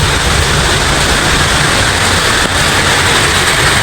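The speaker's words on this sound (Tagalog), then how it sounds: "Ayan po, umuulan na naman" Heavy rain pours down steadily during a flood with dam water rising near a house, a dense, loud, unbroken hiss of rainfall filling the whole stretch with no pauses.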